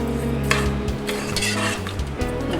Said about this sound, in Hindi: इसको हम चीनी को थोड़ा सा मिक्स करेंगे